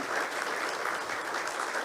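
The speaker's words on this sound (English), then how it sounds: "So you keep clapping until he gets here." Steady, dense applause from a conference audience as a guest walks on stage at an EU delegation event in Kenya, continuous and even with no pauses and no talking.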